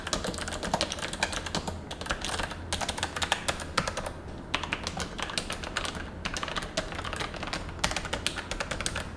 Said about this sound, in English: I do find myself typing a lot much faster with the clicky version versus the tactile